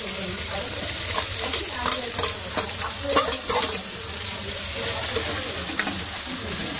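Onions and garlic fry in a pan with a dense sizzle as a spatula stirs them, making soft scraping knocks. The sound is close and fairly loud, and speech is faint beneath it.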